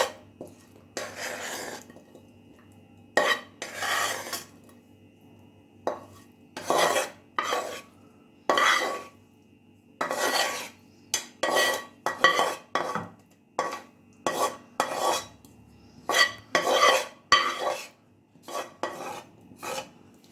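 Spoon scraping and stirring chicken and vegetables into creamy white sauce in a pan, repeated rasping metal-on-pan strokes in an uneven rhythm, close and fairly quiet, no talking.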